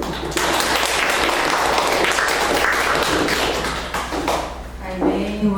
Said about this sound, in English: give a warm round of applause to the director of the Student TESOL program